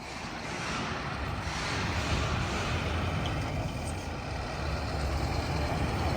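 A heavy Scania truck with a 1,000 hp V8 diesel rumbles steadily at close range as it pulls out, a deep continuous drone with a slight swell as it moves, no voices.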